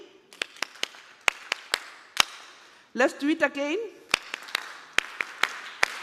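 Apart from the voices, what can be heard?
special Farmer Field Schools group clap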